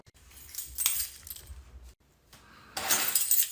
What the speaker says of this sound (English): Hand over your keys.